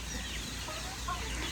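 Village chickens eating scattered grain at their evening feeding give a few soft, quiet clucks over faint background ambience.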